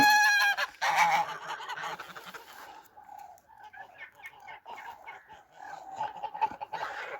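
A flock of chickens and ducks clucking, quacking and honking together nearby, a busy overlapping racket with a person speaking now and then.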